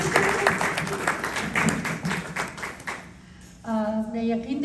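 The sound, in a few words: audience applause at an Urdu poetry gathering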